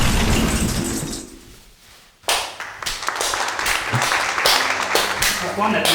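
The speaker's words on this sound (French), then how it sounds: "Pourquoi on applaudit?" Clapping from a few people indoors breaks out suddenly after a near-silent pause and stays loud and brisk, with talking over it.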